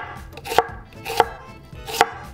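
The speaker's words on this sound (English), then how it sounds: "chop the onion" An onion sliced thinly with a knife on a cutting board: three sharp, evenly spaced chops ring out close by, with soft scraping in between and no voices.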